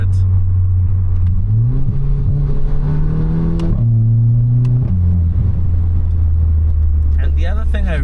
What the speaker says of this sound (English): That exhaust system is just crazy